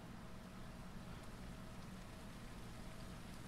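Steady rain falls in the zombie survival video game Surroundead, a soft, even hiss of drops on surfaces with no breaks, faint and continuous, no talking.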